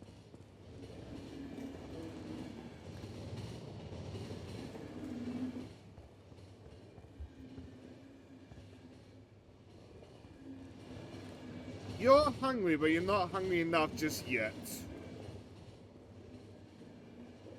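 A train rolls on in a video game as a low, steady rumble under talk, then a burst of squealing, clattering wheel noise before it settles back to the rumble.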